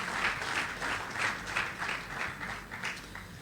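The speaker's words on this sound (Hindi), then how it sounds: "तालियों बजा के अभिनंदन करें।" Applause from a seated audience at a conference inauguration welcoming guests, soft and somewhat distant, with clustered claps rising and falling in an even, continuous patter.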